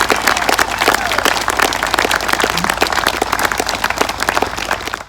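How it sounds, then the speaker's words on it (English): Audience applause at a citizenship ceremony for 17 new citizens, a lively burst of many hands clapping, loud and continuous, with no talk over it. "Can we please give 17 new citizens a big round of applause?"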